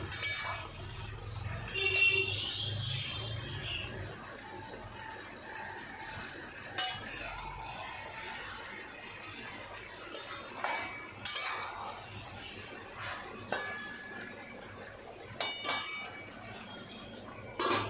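Mixed vegetable curry gets stirred in a pot with the lid lifted and set back, producing clinks and scrapes of a metal spoon and lid against the vessel, with brief knocks spread through the stretch.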